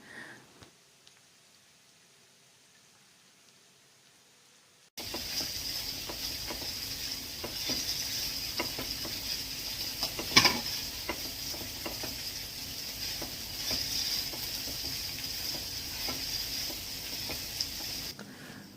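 Okra frying in a pan while being stirred, with a steady close sizzle that starts suddenly after a quiet opening and carries scattered light clicks and one sharper knock midway.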